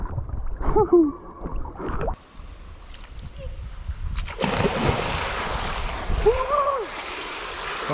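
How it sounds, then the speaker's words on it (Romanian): People jump into a small outdoor pool in Paphos, Cyprus. Voices talk, then there are abrupt plunging splashes and churning water, with a muffled underwater stretch before the sloshing surface returns near the microphone. "Vrem să ne aruncăm în această piscinuță."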